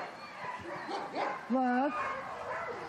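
A police sniffer dog trained to search for explosives and ammunition gives one short, rising yelping bark close by, under and between steady talk.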